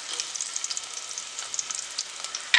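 Chopped garlic fries in hot oil in a pan, giving a steady, close sizzle with small crackling pops.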